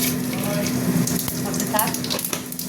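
Bay leaf, two dried red chillies and whole cumin sizzling in hot oil in a pan, a steady crackling fry with a few sharper pops and spatters.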